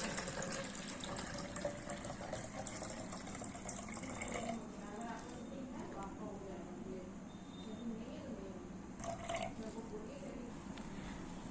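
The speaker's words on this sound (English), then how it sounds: "carefully hold the beaker and tilt it to another beaker and pour out the water into another beaker" Water is poured from one beaker into another in a classroom science demonstration, a soft, steady trickle and splash running under quiet spoken instruction.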